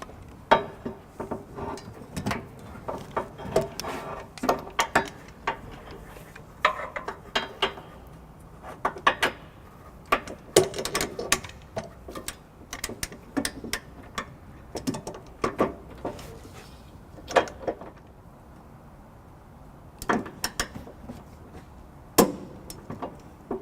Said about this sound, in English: we're going to go ahead and torque all the bolts down to the manufacturer's specs